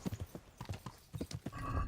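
Video game horse hooves clip-clop in a steady, rhythmic trot, close and clear, with a faint low whinny-like sound near the end.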